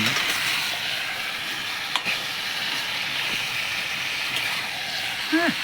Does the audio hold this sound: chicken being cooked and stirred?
yes